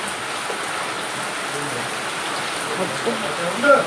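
Steady rain pours down on the day before Cyclone Michaung as a constant broadband hiss, with a few louder splashes toward the end and faint talking beneath.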